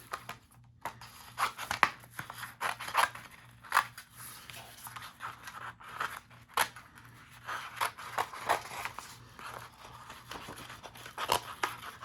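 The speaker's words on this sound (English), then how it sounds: "now I'm going to go back with my scissors and cut away" Quiet, close snips of scissors cutting through paper, coming in irregular bursts with soft crinkling in between.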